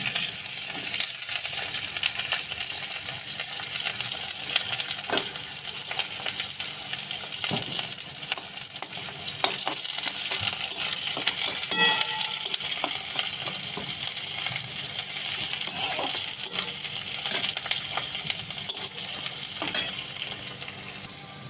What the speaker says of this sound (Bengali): এখানে আমি কড়াইতে গরম বসিয়েছি। এবারে আমি স্টার্ট করব। কড়াইতে দিয়ে দিচ্ছি পেঁয়াজটা।